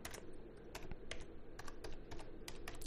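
Fast, steady typing on a computer keyboard, close and clear, with keys clicking in quick uneven bursts and no talking over it.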